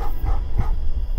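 Barking dogs in the game Sign of Silence, a few quick yips and barks in a short burst over a steady noisy background.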